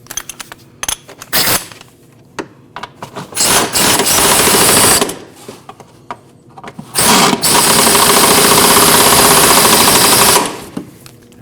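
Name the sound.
impact gun snugging bolts on Jeep Cherokee strut mount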